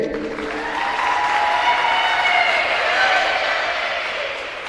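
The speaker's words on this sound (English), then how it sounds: "let's have one more round of applause for the Rose-Hulman Women's Volleyball Seniors" An audience applauds a senior of the Rose-Hulman women's volleyball team at a ceremony, a sustained wash of clapping with some crowd noise that swells and then fades slightly.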